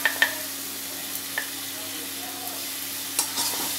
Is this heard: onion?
yes